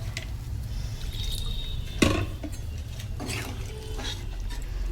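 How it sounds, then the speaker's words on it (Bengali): Fish curry bubbles at a boil in a pot, a close, continuous soft gurgling with scattered pops and drips and one sharper knock partway through, with no one speaking. "দেখো মাছের ঝোল ফুটে গেছে"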